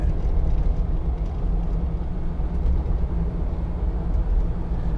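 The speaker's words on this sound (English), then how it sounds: "you get a bit of tyre noise" Cross-contact tyres on a 2013 Land Rover Defender 90 hard top roll over a badly broken road, giving a steady, close, low roar and rumble that holds at an even level throughout, with no talking.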